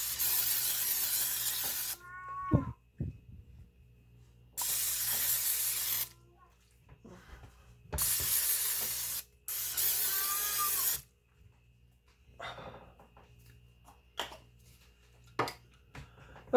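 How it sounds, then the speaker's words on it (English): Nonstick cooking spray hisses into a slow cooker in three bursts of a couple of seconds each, with quiet pauses and small clicks and handling noises between them. "the first thing we're going to do to the slow cooker is spray it with nonstick"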